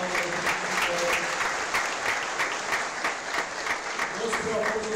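A church audience bursts into steady, dense applause that fills the space throughout, many hands clapping together with a faint murmur of voices underneath.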